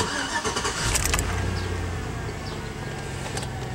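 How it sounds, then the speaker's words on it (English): A Chevy engine cranks and catches close by, the starter whirring briefly before the engine settles into a steady running idle, loud and alone with no talk. "Let's start the vehicle and see what happens."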